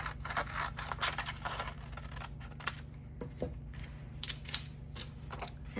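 Scissors snipping paper shapes for a children's landscape collage, a run of crisp close cuts and light scrapes at a steady rhythm over faint background hum.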